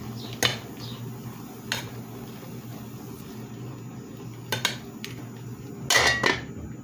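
A metal spoon scrapes and clinks against a cooking pot of boiling sautéed bottle gourd with beef several times at uneven intervals, over a steady low background hum.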